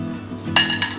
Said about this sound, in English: now let's take the steaks out and cut these